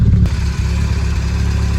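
A Triumph Spitfire engine runs steadily nearby with a low, uneven beat from a slight misfire, loud and without speech.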